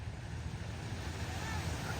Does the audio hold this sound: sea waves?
yes